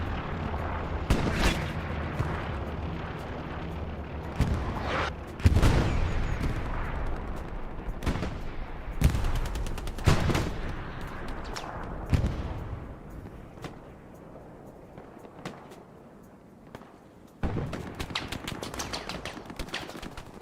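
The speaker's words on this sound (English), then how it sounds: "Trying to avoid that MG fire from across the way" Machine gun fire in the World War II shooter Hell Let Loose on the El Alamein map, with rapid bursts and single cracks coming in clusters, some loud and close and others more distant, plus occasional heavy booms.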